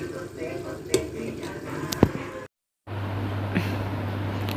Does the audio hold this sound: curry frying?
yes